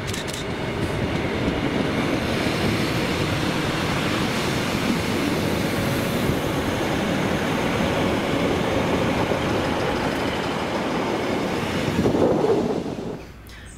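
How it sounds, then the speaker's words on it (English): A ScotRail Class 153 diesel unit working with a Class 156 on the Glasgow Queen Street to Oban service runs by with a steady, loud rumble, wind buffeting the microphone and a brief swell near the end. "ScotRail Class 153s are doing after their first year in service in Scotland, with 153380 and 156455 working 1Y25"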